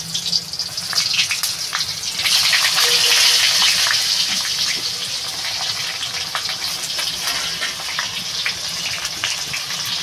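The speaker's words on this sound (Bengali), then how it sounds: "আগে এই পটলটা ভেজে নেব, সামান্য একটু হলুদ মেখে এবার ভাজবো পটলটা" Pointed gourd coated with a little turmeric frying in hot oil in a wok, giving a loud, steady hiss and crackle with a denser burst in the middle, continuing throughout without talk.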